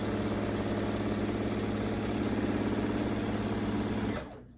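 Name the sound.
sewing machine stitching a quilt top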